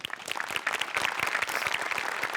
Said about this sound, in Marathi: दोघांसाठीही टाळ्या